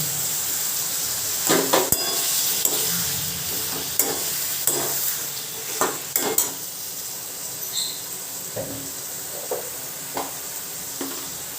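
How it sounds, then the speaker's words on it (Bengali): Chopped tomatoes frying in a pan of hot oil with cardamom pods and a cinnamon stick, a steady sizzle broken by repeated scrape-and-stir clatters of a spoon, close up with no talking. "এর মধ্যে দুটো ইলাচ একটা দালচিনি দিয়ে দিলাম এর মধ্যে টমেটোর কুচিগুলো দিয়ে দিলাম"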